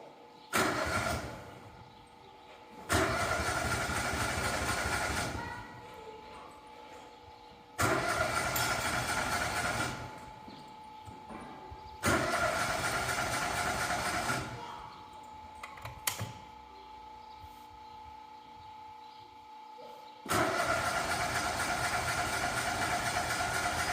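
A Lincoln Electric Ranger 250 engine-drive welder, unstarted for ten years and with the choke on, cranks in five long loud bursts of several seconds each, separated by short pauses, without catching.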